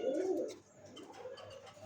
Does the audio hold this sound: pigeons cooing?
yes